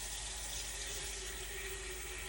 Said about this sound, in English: So I'm gonna put some water in there.